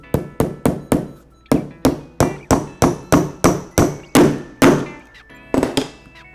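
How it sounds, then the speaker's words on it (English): A metal hammer drives a small nail into the top of a hammerhead with a steady run of about sixteen loud, sharp strikes, evenly paced with one short pause, close and without talk. "you can take a small nail and hammer it on the top of your hammer so that it goes into the"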